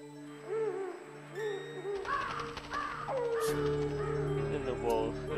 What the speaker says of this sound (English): I like how they saw the owl in the background,